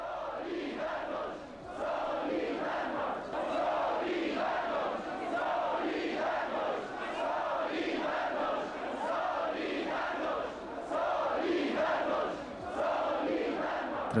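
A large crowd at an anti-government demonstration in Poland chants and shouts in rhythmic waves, a continuous dense roar of many voices at a distance.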